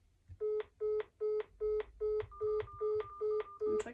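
Keypad tones from a Samsung Galaxy Z Flip 3 phone being dialed: nine evenly spaced, clear beeps in a steady rhythm, close and alone.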